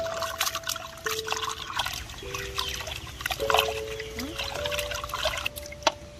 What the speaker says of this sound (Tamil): சிக்கனை நல்லா கழுவி எடுத்துக்கலாம்.